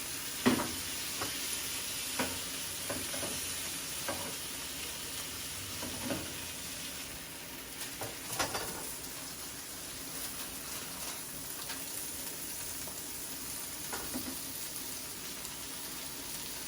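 Onion sizzles steadily in a frying pan, a constant bright hiss with occasional faint clicks and stirring knocks, close and alone without talk.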